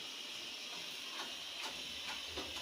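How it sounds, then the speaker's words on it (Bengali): Onions frying in hot oil in a Bangladeshi cook's pan, a steady, dense sizzle that holds constant throughout, close and fairly loud with no talk over it. "কি পেঁয়াজ ভাজেন?"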